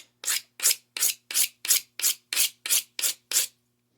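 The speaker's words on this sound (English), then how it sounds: "I'm taking the serrations, putting it on the core, pulling and dragging to the side." A serrated knife dragged sideways along a boffer sports weapon core to sand it, giving about ten even, rhythmic rasping strokes close up with short gaps between them.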